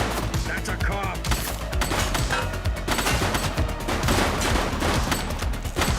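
Gunfire in the police video game The Precinct sounds as dense, rapid bursts of shots and fusillades under a loud game soundscape, with voices shouting over the shooting.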